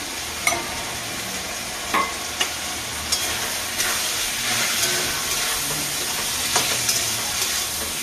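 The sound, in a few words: stirring and frying spices for motor ghugni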